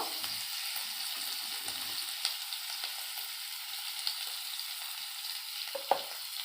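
Chopped tomato and salt sizzling steadily in a frying pan while cooking tadka, a constant hissing fry with faint occasional pops and stirring clicks, close and alone with no talk.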